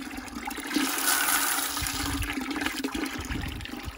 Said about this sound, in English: this is the output of the pump right now, pretty early in the morning, like 9 o'clock, probably about 2 gallons a minute